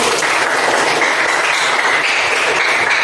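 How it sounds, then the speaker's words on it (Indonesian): A group of teachers in a classroom game session bursts into loud, dense applause, sustained and even throughout with no pauses, close and filling the room. "tepuk tangan buat kita semua."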